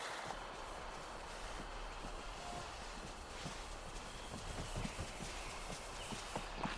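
Horse hooves clip-clopping at a steady walking rhythm while riding in the video game Disney Dreamlight Valley, faint and even under a soft ambient backdrop.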